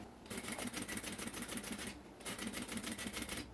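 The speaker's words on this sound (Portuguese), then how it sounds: "e vou passar uma costura prendendo" A sewing machine stitches a seam on a zippered plastic-window cosmetic bag, running in two fast, steady rhythmic bursts separated by a short pause, close and fairly quiet.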